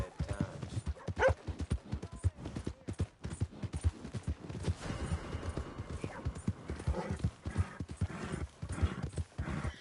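Horse hooves gallop steadily in Red Dead Redemption 2, a fast, even, close clip-clop rhythm running throughout with a brief whinny early on.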